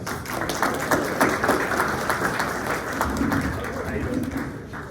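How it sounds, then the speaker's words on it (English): Audience applause at a community event in Corona, a dense clapping wash from a room full of people that holds steady throughout, with some voices mixed faintly underneath. "Let's give them a round of applause."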